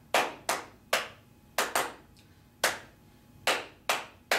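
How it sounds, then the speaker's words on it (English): A single student claps a free rhythm in a classroom, with about eleven sharp, close hand claps in an uneven pattern, some coming in quick pairs, and quiet gaps between them. "one student's going to clap"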